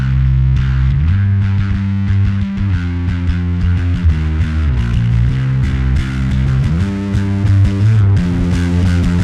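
Bass guitar played through a Darkglass KAAMOS octave and drive pedal set to a broad, rowdy fuzz, a loud, continuous distorted riff with thick sustained low notes and gritty overtones, played alone with no talk.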